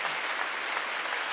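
A church congregation applauds during a Wednesday worship service, giving a dense, steady burst of clapping that fills the short clip with no voices over it.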